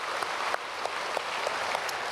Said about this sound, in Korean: 오늘 찬양대 찬양 큰 은혜 받았습니다. 박수하겠습니다.